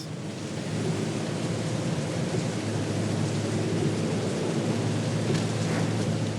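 Steady heavy rain falls through the night during a flood period in France, a dense continuous hiss with a low rumble, loud and unbroken from start to finish, with no voices.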